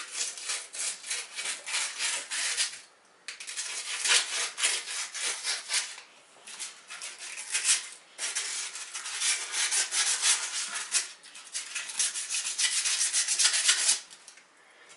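Sandpaper of 220 grit rubs over the wire wheel hubcap of a Corvair in steady, raspy strokes, loud and close with a few short pauses, no talking.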